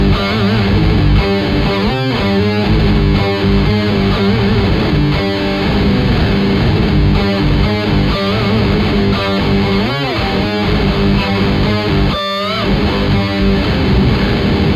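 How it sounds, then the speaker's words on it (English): Electric guitar played through the normal pitch shifter effect on a Zoom G6 multi-effects pedal, a steady run of distorted, layered notes and chords with shifted harmony that plays loud and continuous, with no talking. "Let's just try the normal pitch shifter."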